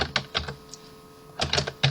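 Computer keyboard keys clatter in two short bursts of quick typing, a few rapid clicks, then a pause, then another flurry, close and fairly loud, with no talking.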